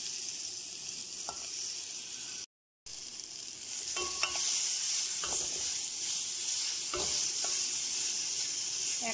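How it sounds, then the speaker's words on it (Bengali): Mashed olives stirred in a hot pan for Bengali jalpai chutney, a steady frying sizzle with a few scraping stirs and one brief dropout partway through. "এবার আমি এর মধ্যে দিয়ে দিচ্ছি জলপাই, যেগুলো আমি এভাবে চটকে রেখেছিলাম সেই জলপাই গুলো।"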